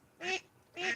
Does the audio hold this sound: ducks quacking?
yes